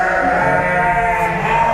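A sheep gives one long, quavering bleat, close and loud, at a farm raising Indonesian tangkas fighting sheep. Nobody talks over it.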